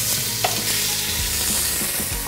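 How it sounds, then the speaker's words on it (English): Pork chunks brown in a pot as the base for a ragu, giving a loud, close, continuous sizzle with occasional soft thumps and scrapes from stirring. "First, we're going to brown the meat."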